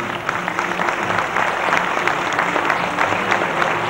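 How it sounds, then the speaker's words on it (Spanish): An audience at an anniversary celebration with artistic performances applauds steadily and fairly loudly for a group of costumed children, a dense wash of clapping that holds for the whole stretch. "el aplauso para todos ellos"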